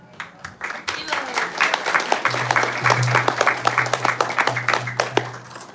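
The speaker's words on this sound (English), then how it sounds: "Is that instead of questions, you just applause?" Steady clapping and applause from a lecture audience at a Sunday feast class, moderately loud and continuous over a low hum, with a voice heard briefly over it.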